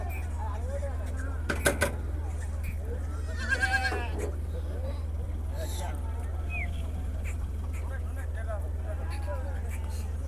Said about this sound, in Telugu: కొన్ని పిల్లలు ఉన్నాయి కొన్ని మేకలు ఉన్నాయి